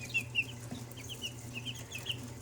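Young chicks in a mixed flock cluck in short repeated calls over a steady low background hum, with no voices present.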